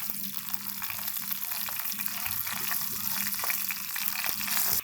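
Whole dried red chillies, nigella seeds, coriander seeds and cumin frying in leftover ghee for restaurant-style achari bhindi masala, giving a steady close sizzle with faint crackles and spoon stirs throughout.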